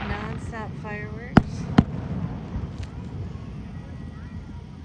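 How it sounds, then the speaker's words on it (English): Independence Day fireworks in Alabama, with two sharp, loud cracks in quick succession and a few fainter pops further off, while a person talks nearby. "Lots of non-stop fireworks."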